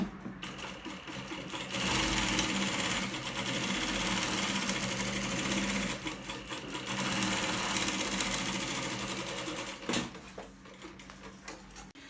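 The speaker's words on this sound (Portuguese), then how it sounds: "Vou passar a segunda linha, ó, olhando pra minha primeira costura e pro guia" A sewing machine stitches the second seam line on a baby's outing bag, whirring steadily in two long close runs split by a brief stop, with light handling noise at the end.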